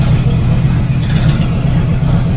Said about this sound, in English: I've got a little squeaky rattle. I actually think it's coming from that alternator